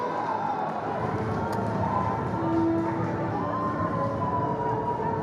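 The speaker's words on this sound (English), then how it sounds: "And listen to that crowd!" Large crowd at a Philippines Football League match between Kaya FC Iloilo and Dynamic Herb Cebu FC, a steady, dense roar of cheering and chanting filling the stadium throughout, with a commentator's voice over it.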